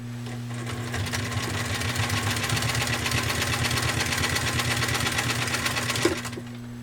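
A restored Singer 66 sewing machine runs in one continuous smooth hum for about six seconds, close and steady, then stops.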